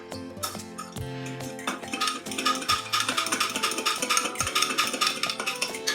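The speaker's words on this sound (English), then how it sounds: "I'm going to put in a heaping tablespoon, tablespoon. And we're just going to give that a good mix" Minced garlic is stirred into a honey garlic sauce, a spoon clinking and scraping rhythmically against a bowl, close and steady, quiet with no talk.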